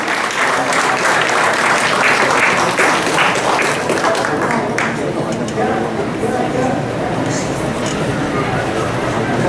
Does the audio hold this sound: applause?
yes